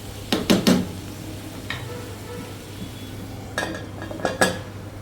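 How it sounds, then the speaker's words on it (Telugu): A metal lid clatters onto a cooking pot of raw prawns and tamarind leaves, with sharp clinks early and again near the end, close and fairly loud over a low steady hum, without speech. "నీరు పోసి మళ్ళీ మూత పెట్టేద్దాం"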